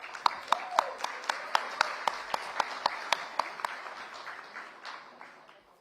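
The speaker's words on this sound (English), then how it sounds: "A huge round of applause," An audience claps for young performers at a live oral health summit event. The claps are quiet, regular and in unison, a rhythmic beat of sharp hand claps that loosens and fades toward the end.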